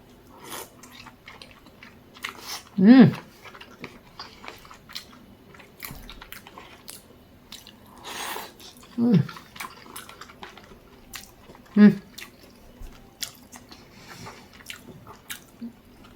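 Someone eats 7-Eleven pork dumplings dipped in sauce, with soft, wet chewing and a few louder squishy bites spaced several seconds apart against a quiet background.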